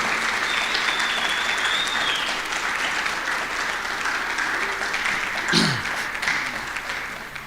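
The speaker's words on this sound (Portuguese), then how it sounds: "Vamos dar um aplauso ao Senhor?" A church congregation claps together at the end of a worship service, a steady, sustained round of applause filling the room for several seconds.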